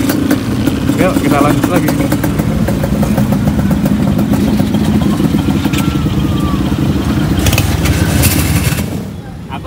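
A motorcycle engine idles and runs steadily through a group independence-day ride, a low continuous rumble with some clatter, while people talk over it nearby before the sound fades at the end.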